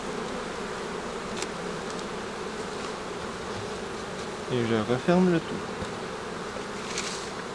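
Honeybees buzz steadily around an opened beehive in a low, close drone, with a louder tonal burst of passing buzzing midway and someone briefly talking over it.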